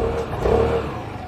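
A 2021 Vespa 300 HPE scooter engine revs up as it pulls away, a brief, steady rising drone at close range with no talk over it.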